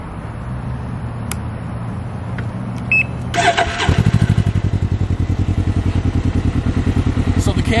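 A 2021 Can-Am Ryker 600 three-wheeler cranks and fires up after a few seconds of quiet, then settles into a loud, close, evenly pulsing idle that carries on to the end.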